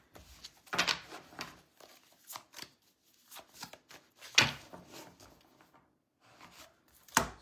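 Tarot cards riffle and slap in short bursts of shuffling, quiet and close, with pauses between each pass.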